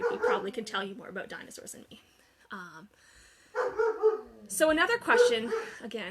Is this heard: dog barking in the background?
yes